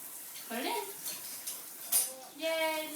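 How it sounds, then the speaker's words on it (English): Dishes and spoons being put into a home dishwasher, with several light clinks and clatters of cutlery against plates and racks, close by, while a voice talks over the clattering. "Put it in the dishwasher."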